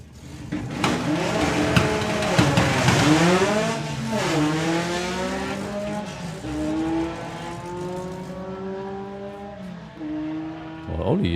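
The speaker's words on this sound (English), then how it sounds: "Well, Ollie is way out in front and records 1167, 118 miles an hour to 1198." 4-cylinder class doorslammer drag race cars make a pass, engines droning loud with rising and falling pitch sweeps as they shift gears, a commentator talking over the run throughout.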